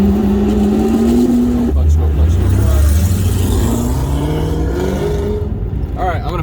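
A drift car is driven hard around the Pocono track, its engine droning loud and steady with rising and falling pitch close by, while someone talks over it.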